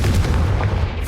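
The Confringo spell explodes in the Hogwarts Legacy video game, a loud, deep booming blast with a rumbling low end that fills the whole short moment.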